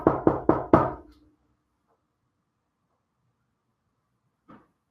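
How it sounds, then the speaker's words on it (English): Four quick raps on a door in a fast even burst, close and loud with a short ringing tail, then silence and one faint soft knock-like tap a few seconds later. "let's give him the knock knock."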